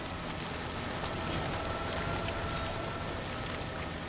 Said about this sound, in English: with this much freaking rain around here